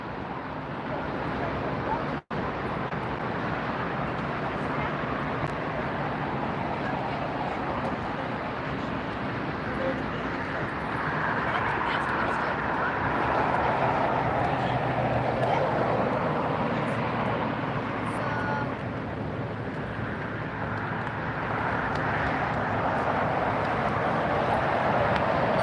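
A Viva Aerobus Airbus A321 jet airliner at LAX produces a continuous, fairly loud roar that swells slightly in the middle. A brief sharp dropout occurs early on.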